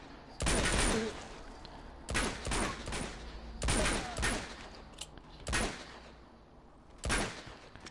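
Gunfire in the video game Uncharted 2 comes in five separate loud bursts of rapid shots with short pauses between them, close and sharp.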